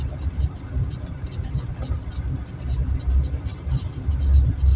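A car driving along a city street in Zabrze, toward Goethe Street and the station square, giving a steady low engine and road rumble inside the cabin with slight swells, and no clear talk.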